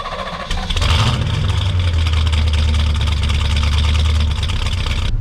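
A 1970 Oldsmobile 442 W30 V8 cranks briefly and fires up, settling into a loud, lumpy idle close by that runs to the end.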